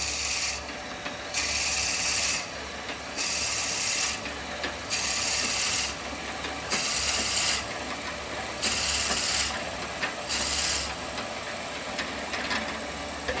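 A pop-fit perfume pot turning on a wood lathe at low speed gives repeated rasping, scraping passes in a steady rhythm of roughly one-second strokes with short pauses, loud and close, over a constant motor hum.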